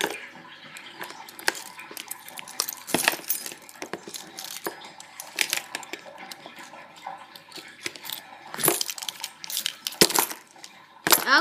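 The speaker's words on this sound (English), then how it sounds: "My keys!" A bunch of keys jingles and clinks repeatedly up close, bright metallic rattles coming in irregular bursts throughout with no voices.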